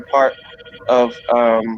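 A telephone rings in a hospice office with three evenly spaced, bright tonal bursts. A voice speaks briefly between them.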